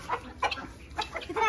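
A hen on a rooftop bird setup gives a quick series of loud, close clucks in short bursts, with no talking.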